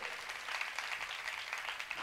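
Applause from a church congregation, a soft, fairly distant wash of many hands clapping that continues steadily for a couple of seconds with no talk over it.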